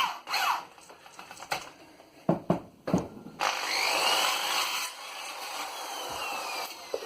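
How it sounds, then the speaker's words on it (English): A power drill whirs steadily for a few seconds, enlarging a hole in a scrap-made hand guard, after several short knocks and bursts, close by, with no talking. "Drill out, make the hole a bit bigger."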